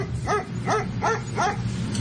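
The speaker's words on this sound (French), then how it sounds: "j'entends des chiens à japper" A dog yaps four times in quick, evenly spaced sharp barks, fairly close, over a low steady background hum.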